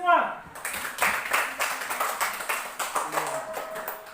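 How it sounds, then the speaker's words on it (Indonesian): An audience at a school dance performance claps in a steady, moderately close rhythm of repeated hand claps, quite soft overall. "Ya, tepuk tangan untuk kalian semua."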